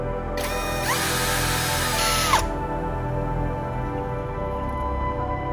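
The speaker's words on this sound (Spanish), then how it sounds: "Con el taladro y un avellanador, repasaremos de esta manera el orificio del tubo." A power drill with a countersink bit whirs briefly at high speed for about two seconds, reaming a tube hole, winding up and spinning down, followed by quiet background hum.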